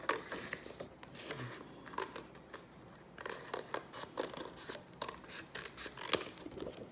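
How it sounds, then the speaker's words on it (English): Scissors snipping around a temporary tattoo sheet, a quiet series of close, crisp cuts coming in irregular bursts with soft paper rustle between them. "We're going to go ahead and cut around this tattoo."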